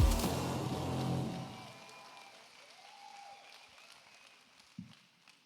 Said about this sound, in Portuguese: Recebam com um forte aplauso o pastor Gustavo Pereira.